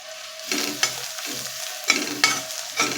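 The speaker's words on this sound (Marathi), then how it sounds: "हळद दोन मिनिट चांगली परतून घ्यायची आहे" Turmeric and chopped coriander sautéed in a hot pan for sprouted moth bean usal, a steady sizzle with repeated scraping stirs of a spoon against the pan, close and fairly loud, no voices.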